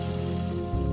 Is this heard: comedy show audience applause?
no